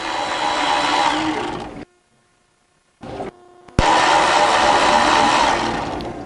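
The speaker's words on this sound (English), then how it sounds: "we're just going to reach in here and take these bolts out" Bolts being removed from a Ford 4.0 SOHC engine during a water pump replacement: a loud, steady whirring of a power ratchet runs for nearly two seconds, stops briefly, gives a short burst, then resumes with a sharp click and continues strongly.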